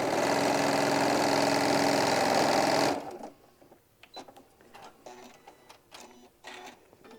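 A sewing machine stitches down a pleat on a bag lining piece in one loud, steady run of close, rapid stitching for about three seconds, then stops, leaving quiet handling clicks and rustles.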